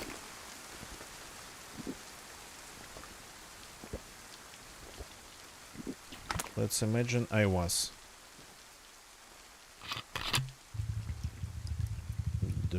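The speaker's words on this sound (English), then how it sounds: "The rain subsiding." Rain in the survival video game DayZ patters softly and steadily in the background, overlaid by scattered game clicks, brief louder effects and someone talking.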